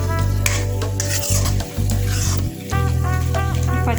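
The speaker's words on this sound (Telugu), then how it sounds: "ఒక 5 నిమిషాలు ఫ్రై చేసుకుందాం." Meal maker (soya chunk) curry fries in a pan as a spoon stirs and scrapes, giving a continuous close sizzle and rasping over a loud low hum, with brief dips and no speech.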